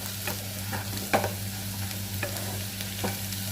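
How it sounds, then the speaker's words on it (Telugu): Potato slices frying in a pan on a medium flame, a continuous sizzle with several sharp spatula scrapes and taps at irregular intervals, close and clear, no speech. "ఈ విధంగా స్టవ్ ఫ్లేమ్ని మీడియంలో పెట్టుకొని ఫ్రై చేసుకోవాలి"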